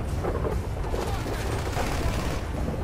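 Rapid gunfire from a shootout in the video game GTA 5, dense continuous bursts of shots crackling loud and steady throughout with no talk.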